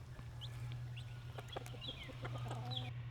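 Chickens cluck in short scattered bursts over a steady low hum, with a faint rooster-like call mixed in, moderately quiet and with no voices.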